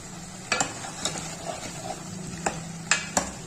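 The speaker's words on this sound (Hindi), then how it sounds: "इतना भूनेंगे हम इसको कि हमारा ऑयल ऊपर आ जाए" Aloo gosht masala sautéing in oil, a low continuous sizzle under scattered metallic scrapes and taps of a spoon against the pot, close and moderately loud.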